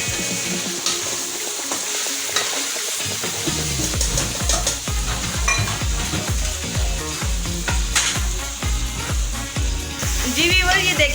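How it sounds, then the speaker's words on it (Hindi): Beef chunks for bhuna gosht fry and get stirred in a pan, with a steady sizzle, repeated scraping and clattering strokes throughout, and brief, quiet talk. "माँ जी इस गोश्त को भून रही हैं अच्छे तरीके से"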